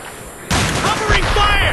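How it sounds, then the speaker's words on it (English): A grenade goes off in the Vietnam War shooter Vietcong: a sudden sharp blast after a quiet moment, followed by a crackling, ringing aftermath mixed with gunfire and shouting voices. "Let's try and toss a grenade inside."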